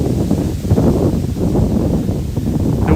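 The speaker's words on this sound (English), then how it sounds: "Oh, it's windy." Wind gusts buffet a microphone on a late winter night walk through New York City, a steady loud rumbling roar with rustling, no voices.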